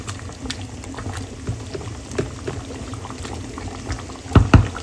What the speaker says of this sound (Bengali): এখানে গরু মাংসের ঝোলের পানি দিয়ে দিয়েছি